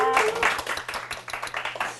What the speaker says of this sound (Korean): 우리 김공주 선생님의 새로운 출발을 큰 박수로 다시 한번 응원 드릴게요